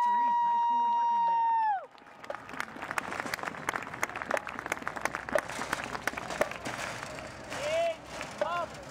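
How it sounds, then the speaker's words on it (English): Audience applause at a 50th anniversary event, a broad wash of clapping that starts abruptly after a sustained tone and continues steadily, with voices and a few cheers through it. "more round of applause, ladies and gentlemen"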